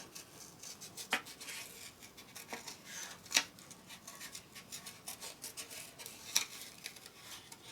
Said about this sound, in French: je vais découper mon tampon